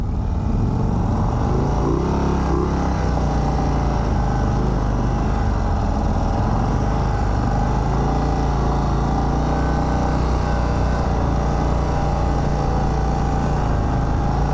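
A 2023 Indian Sport Chief motorcycle runs steadily on a short track, its engine a loud, continuous drone held close throughout with no breaks or voices.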